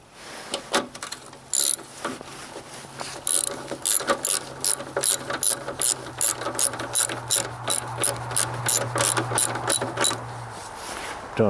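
A ratchet clicks in steady, rapid bursts while tightening a hood lift support bolt on a 2000 Toyota Camry XLE 3.0L V6, close and alone, with a low hum running underneath.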